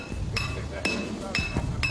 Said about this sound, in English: it's time to hammer it into position